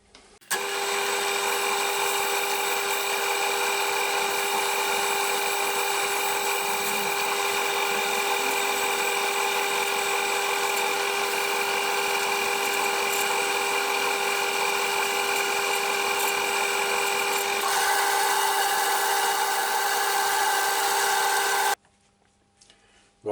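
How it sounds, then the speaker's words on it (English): Wood lathe spinning a sycamore bowl with yew inlays while it is polished, a steady loud motor whine with humming tones holding for about twenty seconds, then cutting off abruptly. "now I'll switch the lathe on and let it do its work"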